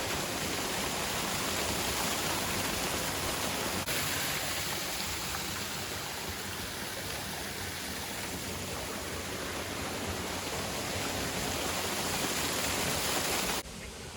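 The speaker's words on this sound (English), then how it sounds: "now we're standing at the top of an amazing waterfall" Constant dense rush of falling water at Flat Lick Falls in Kentucky, heard from the top, loud and unbroken with no voices, ending abruptly.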